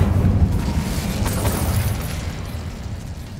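The Incendio fire spell in Hogwarts Legacy lets out a rumbling, roaring burst of flame that stays loud for a few seconds, broad and low, and then slowly dies down.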